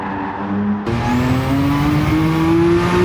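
A Lamborghini Countach QVX racing on a circuit drops to second gear for a slow corner. A loud engine roar cuts off, then picks up again, its pitch climbing steadily as it builds speed close by.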